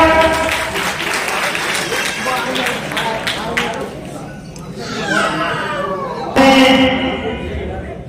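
A crowd claps steadily and loudly for female students, with voices mixed in and a few sharper cries near the end.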